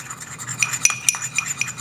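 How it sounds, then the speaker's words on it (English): A spoon stirs a dry mix of sugar and plenty of cinnamon in a bowl, giving light scraping and clinking ticks in an uneven rhythm, close and moderately quiet, with no voices. "Give it a stir."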